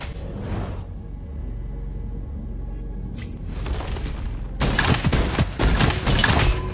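Gunfire from the basic weapon in Gunfire Reborn, played on mobile, comes as a loud burst of rapid shots near the end, after a quieter rumbling stretch with a brief whoosh.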